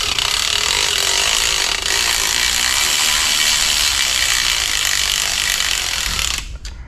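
A ratchet wrench being turned on a truck engine from a 2000 Suburban 2500, a continuous fast clicking rasp heard up close for several seconds before stopping abruptly.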